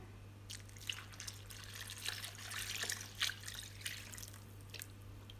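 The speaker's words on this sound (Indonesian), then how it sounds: "Tambahkan air." Water poured into a cooking pot of seasoned beef for serundeng, heard as faint scattered drips and light trickling splashes over a steady low hum, quiet and close.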